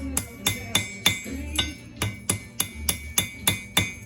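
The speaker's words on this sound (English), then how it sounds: "I'm going to take a hammer that's got a rounded face." A rounded-face hammer cold forges San Mai hunting knife steel, striking about a dozen times in a steady, evenly spaced rhythm, each blow a sharp, ringing metallic clink close by, with no talking.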